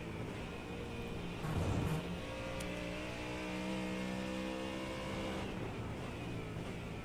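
GTP prototype race car in an IMSA-style sim racing series, the engine droning steadily at high revs as the driver feathers the throttle, with wavering pitch and a brief louder surge near the start, under a faint background hum.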